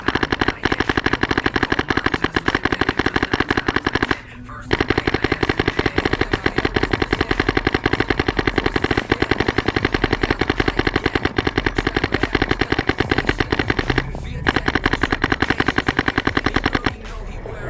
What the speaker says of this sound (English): It's going to shoot a little smoother, but it's going to keep that bolt cycling fast over high rates of fire.